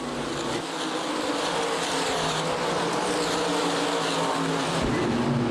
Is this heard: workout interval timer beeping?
no